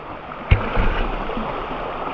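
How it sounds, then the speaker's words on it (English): A river flowing beside a campsite in Tasmania's western wilds, a steady close broadband rush of water with a soft thump near the start and no talking. "we're out here camped up beside the river"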